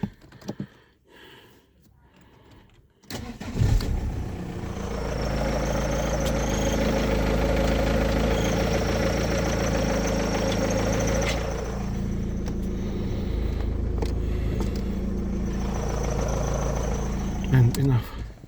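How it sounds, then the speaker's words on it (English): An Audi A6 C5 with a ZF automatic transmission cranks and fires after a quiet moment, then settles into a steady, close idle with a rattly mechanical hum, with some speech and clicks around it. "let's start the engine."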